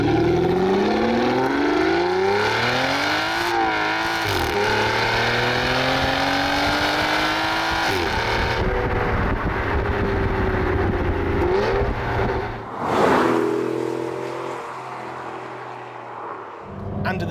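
An Aston Martin DB9's exhaust, with valves open, roars loudly, the engine note climbing and dropping through several revs before settling into a deep, burbling idle.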